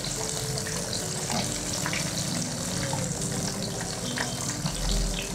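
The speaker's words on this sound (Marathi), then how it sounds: "छान झालं तळून." Food deep-fries in hot oil with a dense, steady bubbling sizzle that holds at an even level throughout.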